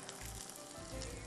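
Ginger and garlic sizzling in hot oil in a pan for a baingan bharta, a steady faint crackling hiss with a low rumble underneath, close and without talk.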